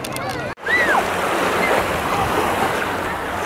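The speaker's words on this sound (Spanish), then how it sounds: "Estamos en el mar, en Fuengirola." Sea waves wash at the coast in Fuengirola, a broad, steady rush of surf and wind after a brief cutoff, with whistling tones and voices faintly over the water.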